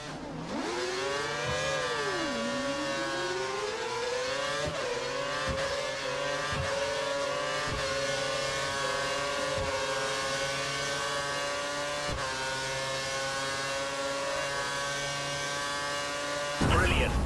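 The F1 car's high-pitched engine in F1 2013 howls up through the gears, with repeated sharp upshifts and a long sustained high-revving whine as it presses to overtake.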